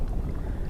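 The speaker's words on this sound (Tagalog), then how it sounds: "Lumalakas ang hangin." Strong wind at sea on a small fishing boat doing traditional handline fishing off Bolinao, Pangasinan, producing a steady, low rushing wind noise on the microphone.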